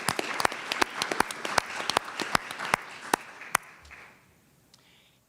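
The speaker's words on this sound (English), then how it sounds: "let's give them a round of applause, please." Sharp, scattered claps from a small audience at a school board meeting, sparse and uneven, thinning out and fading to near quiet after about four seconds.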